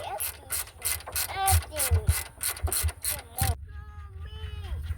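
A ratchet wrench loosens a nut on the front passenger strut assembly of a 2009-14 Nissan Maxima S 3.5L V6, giving a fast run of sharp, close metallic clicks that stops abruptly, followed by a brief high voice.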